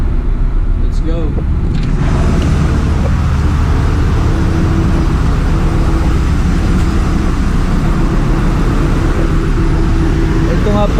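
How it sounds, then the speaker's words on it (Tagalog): A ship's main engine runs loud and steady in the engine room, a dense continuous low rumble with broadband mechanical noise throughout, and a voice speaks over it. "main engine ng barko"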